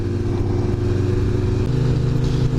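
A Kawasaki ZX-10R sportbike runs onto a highway, its engine a loud steady drone heard from the rider's position, with pitch stepping down briefly partway through, no talk.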